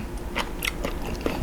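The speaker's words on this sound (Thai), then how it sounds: "กรุบกรุบของหอย" Crisp crunching bites of a blanched jumbo blood cockle with seafood dipping sauce being chewed close up, several crackly crunches in irregular rhythm with no talking.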